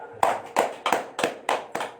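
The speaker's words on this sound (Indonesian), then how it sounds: "tepuk tangan" Six slow, evenly spaced group hand claps from an audience at a motivational seminar, each a sharp close burst with brief decay, no talk over them.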